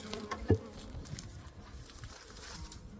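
Honeybees buzz faintly around an opened hive during a mid-winter check. There is a soft, steady hum with a few nearer passing drones and light handling noise.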